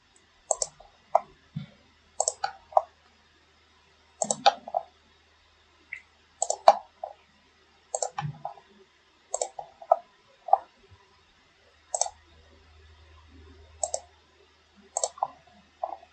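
Quiet, crisp computer mouse clicks while tracing curves in Rhino 3D, mostly single and double clicks spaced irregularly across the stretch, close up in a silent room with a faint low hum.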